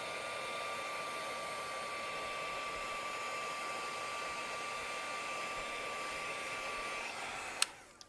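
A heat tool blows steadily on embossing powder, giving a constant loud whirring hiss like a hair dryer that cuts off with a click near the end.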